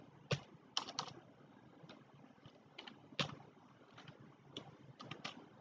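Code being typed on a computer keyboard, irregular bursts of crisp key clicks with short pauses, close and fairly quiet, no voice.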